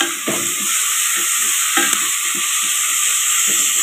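Lentils and tomato sautéing in a pan while cooking keerai kootu, a loud steady sizzle under a few light scraping stirs, close up with no talking.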